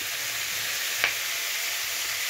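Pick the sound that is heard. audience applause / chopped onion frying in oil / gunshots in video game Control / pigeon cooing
chopped onion frying in oil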